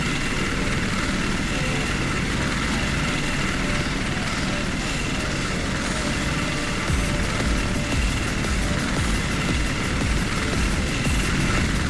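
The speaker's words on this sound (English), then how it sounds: "my helicopters." Helicopters from Armored Brigade 2 drone steadily with a continuous rotor and engine hum, loud and constant, growing slightly denser toward the end.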